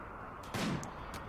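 A gunshot from colonists in the video game RimWorld, a single faint short crack with a couple of small follow-up pops, heard alone.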